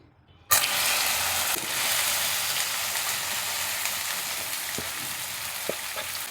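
Cut okra (ladies finger) drops into hot oil for a spicy fry and erupts into a loud, steady sizzle that holds for several seconds, with a few faint stirring clinks near the end and no talking.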